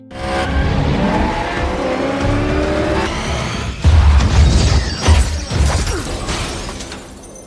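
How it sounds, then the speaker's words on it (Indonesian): Cars ram each other in an action film chase from Furious 7, with roaring engines, squealing tires and loud crunching, shattering impacts, and the heaviest collisions bunched in the second half. "Dan mereka langsung sama-sama menabrakkan mobilnya."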